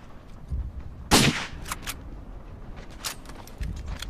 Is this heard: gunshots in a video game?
yes